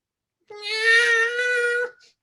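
A person imitates a dying cat, a single drawn-out, wailing, harmonic meow-like cry, loud and close, with no other talk.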